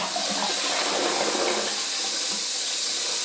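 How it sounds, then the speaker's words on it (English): A close coupled toilet is flushed with the lever held down on a syphon set-up, giving a loud, steady rush of water. The rush swells, then settles into a lighter hiss of refilling. "So this time I'm going to flush it, I'm going to hold the lever down."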